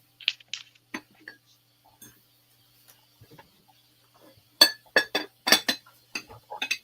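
Pieces of blue Indiana Glass dishware clink and tap as they are handled, a scatter of sharp glassy knocks, sparse at first then a quick cluster of louder clinks near the end.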